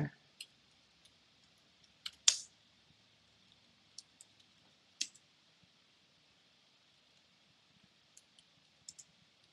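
Typing on a computer keyboard while working in MS Word: sparse, irregular key clicks, mostly quiet with a few sharper taps, set against near silence.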